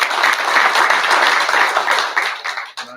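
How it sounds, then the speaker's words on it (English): A school board meeting audience applauds in a sustained, dense burst of clapping that fades out toward the end, honoring a high school tennis coach and athletes. "So we'll give them a round of applause."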